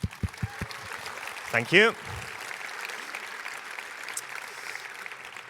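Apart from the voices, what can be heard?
audience applause at JuliaCon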